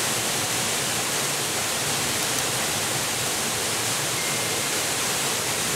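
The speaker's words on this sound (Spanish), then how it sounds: "Esta es una de las tantas cascadas que hay en nuestra bella tierra" Loud, constant rushing roar of a waterfall in Nicaragua, dense and unbroken throughout.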